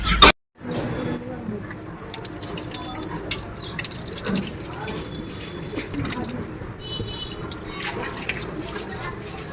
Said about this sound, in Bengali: পা পরিষ্কার হয়ে গেছে এবার বন্ধ করো কল